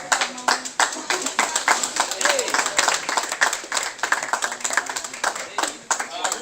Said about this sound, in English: Why are you clapping for yourself?